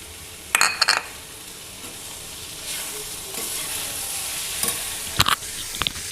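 Paneer sautés in a pan for a masala dosa filling, with a steady sizzle broken by sharp scrapes and clinks of a spatula stirring against the metal pan.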